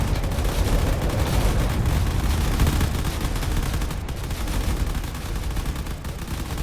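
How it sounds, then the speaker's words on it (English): Cannons firing in a space battle video game make a dense, continuous barrage of rumbling blasts and crackling shots, loud throughout with no pauses. "Those cannons are going to do a lot of damage."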